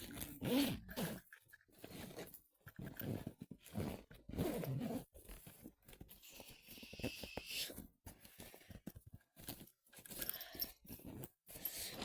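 A school bag's zipper being pulled shut, heard as quiet, close zipping bursts among faint rustling and handling of the bag.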